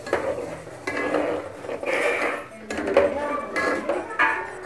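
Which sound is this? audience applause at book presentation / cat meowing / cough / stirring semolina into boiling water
stirring semolina into boiling water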